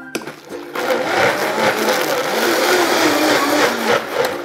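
An electric blender whirs loudly and steadily as it purees boiled mugwort with water, a continuous motor drone starting after a brief moment of quieter sound, close up and with no voices.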